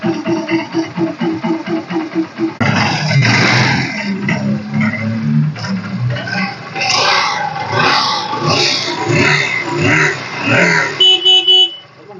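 A 2016 Honda Shine SP motorcycle with a 5-speed gearbox, engine in good condition, starts with a pulsing idle, then revs up louder and runs with rising and falling throttle up close.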